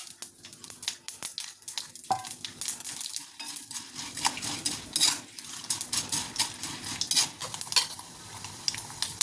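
Mustard seeds and urad dal sizzle and crackle in hot oil in a kadai, with a steady close frying hiss, sharp popping bursts and occasional clinks of a spoon stirring against the pan.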